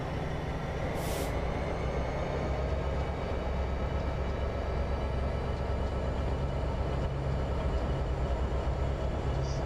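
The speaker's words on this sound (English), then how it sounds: "That's cool, that Stax train" A freight stack train led by an NS SD70M-2 locomotive rumbles steadily in Train Simulator 2015, giving a continuous heavy rail drone with a brief hiss of air near the start.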